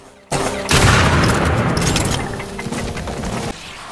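Rapid bursts of Pyrana shotgun fire in the video game Warframe, loud, booming blasts layered into a dense, sustained barrage with no talking.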